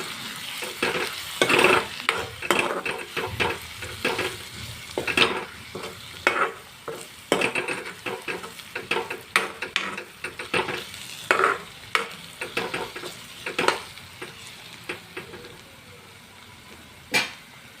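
Chilli powder and coriander powder are stirred into onions frying in oil for an onion curry, with a steady sizzle and many sharp, rhythmic spoon scrapes and taps against the pan, close and busy throughout.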